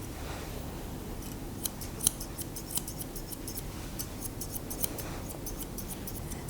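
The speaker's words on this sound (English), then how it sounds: "we'll just scissor off any little bits we've missed with our scissors" Quick, crisp snips of grooming scissors trimming a poodle's head fur into a teddy style, a steady run of close, light cuts over a soft background hum with no talking.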